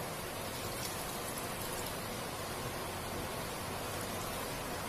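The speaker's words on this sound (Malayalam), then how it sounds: "പുറത്ത് നല്ല മഴയാണ്, അതുപോലെ തന്നെ ഇടിയുണ്ട്." Heavy rain falling outside, a dense even hiss of rainfall that holds steady throughout, with no distinct thunderclap and no voices.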